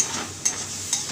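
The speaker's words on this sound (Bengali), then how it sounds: "পেঁয়াজটা ভাজা হচ্ছে" Sliced onion frying in a pan sizzles softly and evenly, with two quick scrapes of a stirring spoon over the steady hiss.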